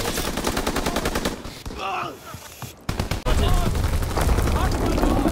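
Rapid automatic gunfire from an enemy aircraft strafing run in a WW2 video game, loud dense bursts that pause briefly before resuming, with short voice lines mixed in.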